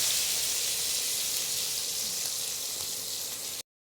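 Chopped green chilli and tomato fry in a pan while being stirred, giving a steady, even hiss of sizzling oil that carries on unbroken until it cuts off abruptly.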